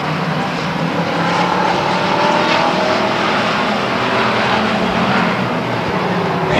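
Race cars roar around the oval at Stockton 99 Speedway during a 2001 race, with a dense, continuous wash of engine noise, loud and steady throughout.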